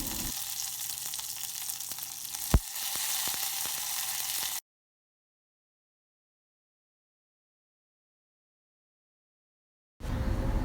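Hot fried mustard seed tempering with dried red chillies is poured into a Kerala-style pachadi curry, giving a loud broad sizzle with one sharp crackle, then a long silence before the sizzling resumes.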